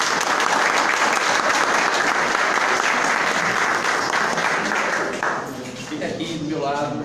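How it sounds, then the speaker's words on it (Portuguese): An audience at a spiritist gathering applauds Márcia as she comes up to sing, a loud, dense wash of clapping that holds steady for several seconds, then thins near the end as a voice begins talking over it. "vamos aplaudir Márcia"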